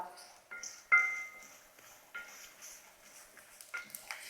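Urad and chana dal are stirred in a pan over low heat, with soft scraping and a few sharp metallic clinks against the pan scattered across a few seconds.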